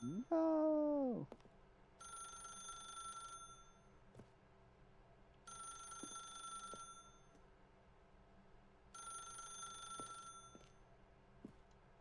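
A telephone rings in The Stanley Parable video game, giving three bursts of steady bell-like trilling, each about a second and a half long with pauses between them. A short voice or tone comes first, and quiet clicks fall in the gaps.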